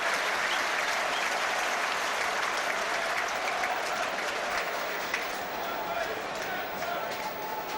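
A football stadium crowd at Chelsea v Charlton Athletic rises in a sustained standing ovation for Shevchenko, a steady wash of applause and cheering from the stands under a commentator's voice.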